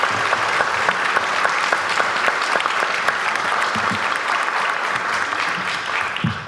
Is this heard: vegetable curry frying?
no